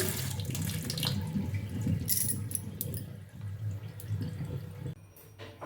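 Running tap water splashes into a sink as green chillies and vegetables are washed by hand, a continuous close gush with shifting splashes and drips, moderately quiet with no talk.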